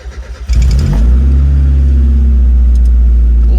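A car at the LZ World Tour car show in New Jersey cranks over briefly, catches, then roars into a loud, sustained high idle that holds steady close by.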